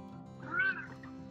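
A house cat gives a single short, clear meow close by against a quiet room background.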